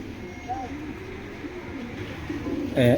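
Racing pigeons are kept for sale in a collection. Low murmuring fills most of the clip, then one loud, close coo rolls out at the very end.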